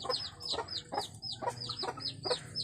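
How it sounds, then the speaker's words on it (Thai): Backyard chickens cluck repeatedly while pecking at vegetables, a steady run of short, quiet clucks heard alone. "ย่าได้ผักมาให้เจ้าไก่ กินกันอย่างอร่อยอร่อยครับ"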